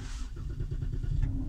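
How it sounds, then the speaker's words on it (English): A 2014 Dodge Charger engine cranks and catches after sitting unused for a while, settling into a low, steady idle rumble close by. "Let's start the car up."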